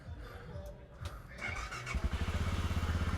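A Voge 650DS motorcycle cranks briefly and then catches, settling into a quick, even idle pulse after about two seconds, heard close by.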